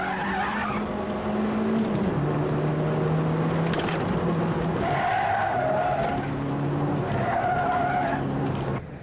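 1989 Toyota Celica All-Trac rally car and rivals crossing the finish at the One Lap of America, with loud sustained engine drone, gear-change pitch shifts and tire squeal throughout.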